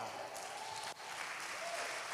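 A church congregation claps in a brief, steady burst of applause, fairly faint and diffuse.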